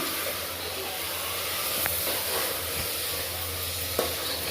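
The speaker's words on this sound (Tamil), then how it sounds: "நான் தக்காளியும் சேர்த்துக்கிட்டேன். இந்த தக்காளி கொஞ்சம் வதங்கட்டும்" Onions and tomatoes sautéing in a pan for a goat head curry: a continuous close sizzling hiss with occasional faint scrapes of stirring, steady throughout and loud against a quiet background.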